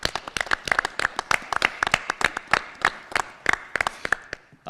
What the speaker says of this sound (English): So if we could give a round of applause to our student volunteers here tonight.